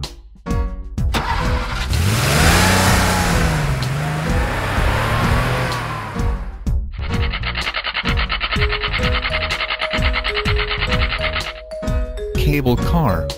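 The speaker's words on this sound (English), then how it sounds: "Taxi." Toy taxi car sound effect: a cartoonish engine cranking and revving with sliding whistles, then a buzzy rhythmic motor loop and chiming notes, with a voice speaking briefly.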